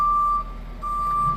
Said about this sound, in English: I don't know if you can hear me over the beeper or not